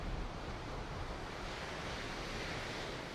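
Sea surf washing steadily toward flooded coastal neighborhoods in Saint-Louis, a continuous broad roar of breaking waves mixed with wind noise on the microphone, with no voices.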